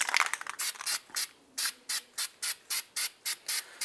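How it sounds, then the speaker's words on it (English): Anti-seize spray hisses onto the surface of a new wheel hub on a 2007-2015 Mazda CX-9, first in a longer spray, then in about ten short, evenly spaced close bursts. "we're going to put some anti-seize on the surface of our new hub."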